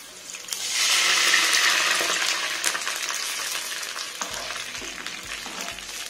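Half a glass of water is poured into a hot pan of curry leaves and green chilli tempering for instant dhokla, setting off a loud, close gushing sizzle that slowly settles into a softer hiss with faint clinks.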